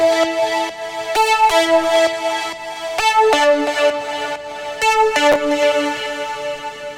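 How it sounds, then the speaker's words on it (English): Repeating synth semi-arpeggio layer in an Ableton-produced trance track, bright stacked harmonic notes pulsing in steady phrases with sharp attacks, played alone with no voices. "So it's kind of like a semi-arpeggio"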